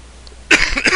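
A single harsh cough bursts out suddenly after a quiet moment, close and loud, with a rough raspy edge.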